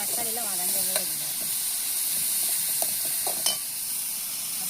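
Tomatoes sautéing in a pan give a steady hiss and sizzle, with a few light stirring clicks, and a voice speaks briefly at the start.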